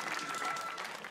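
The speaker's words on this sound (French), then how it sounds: "Ça s'applaudit, ça." An audience at a French stage show applauds, a faint, continuous, distant patter of clapping that carries evenly throughout.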